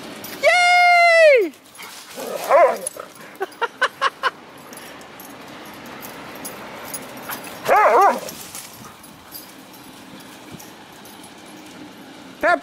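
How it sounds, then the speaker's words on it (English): A dog yelps with a sharp rising whine, then gives several quick barks and yips spread across the stretch, close and loud at times, with quieter background noise between them. "Pepper, don't bark at the dog"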